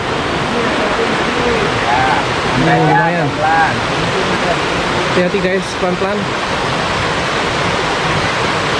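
A river flows below a cliff beside a trekking trail: a loud, steady rushing of water fills the whole clip, close and constant, while people talk briefly over it.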